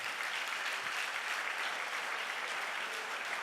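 Steady, faint applause from a church congregation, a continuous even patter of many hands clapping at a distance with no voices over it.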